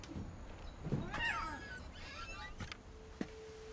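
Cat meowing inside a video game, a few short cries and higher mewing calls standing out over a low background hum, with a brief thump partway through and no talking.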